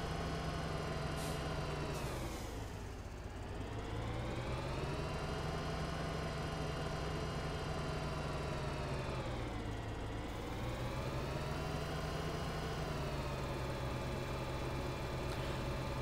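A JCB tractor engine in the Farming Simulator 2013 video game runs steadily, a continuous droning hum whose pitch dips and rises twice as the revs change, with no voices over it.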